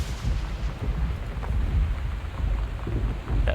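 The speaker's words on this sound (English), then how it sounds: "That fucking thunder is creeping me out" Thunder and rain in the game Gone Home: a steady hiss of rainfall with deep, rolling rumbles of thunder swelling and fading underneath, fairly loud and without voices.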